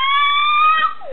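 A young child imitates a fire truck siren, voicing one sustained, steady wailing tone that ends with a short downward slide.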